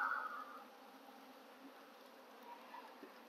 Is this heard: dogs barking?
no